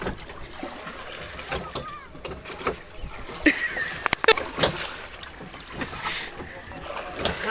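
Oars pull a rowboat through the water of Venna Lake during a boating lesson, with soft splashes and strokes while people talk over them in the background.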